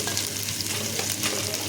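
Sliced onion and a spoonful of ginger paste fry in hot oil in a pan, giving a brief, continuous crackling sizzle at moderate volume with no voices.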